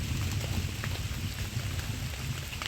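Steady rain falls outdoors on a hillside during a jackfruit harvest, a dense even patter close by with a low rumbling undertone and no talk.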